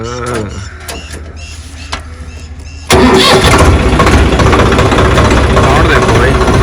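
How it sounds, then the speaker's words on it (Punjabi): A Swaraj tractor engine cranks over with scattered clicks and knocks, then catches at once and settles into a steady, loud diesel idle that runs on without voices. "ਆਪਾਂ ਆਪਣੇ ਸਵਰਾਜ ਨੂੰ ਸਟਾਰਟ"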